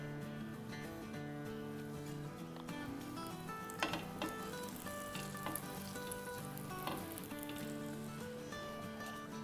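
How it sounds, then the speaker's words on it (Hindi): Bread slices sizzling in butter in a pan for a sandwich, a close, steady frying crackle with a few sharper pops and scrapes, and no one speaking. "अब इसमें हम डालेंगे बटर, और ये स्लाइसेस रख देंगे।"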